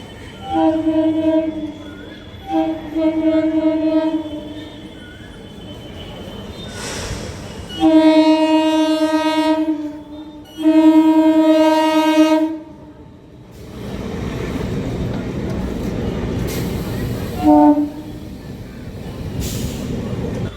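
A local train journey from Jadavpur station toward Joynagar near Kolkata, with loud repeated horn blasts over steady rolling carriage rumble and clatter, the horn sounding in several long bursts close by.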